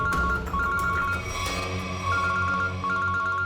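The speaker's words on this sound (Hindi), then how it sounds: "एसीपी सर का फोन।" A telephone rings with a repeating electronic ringtone, loud and near, its pattern cycling several times over a busy background.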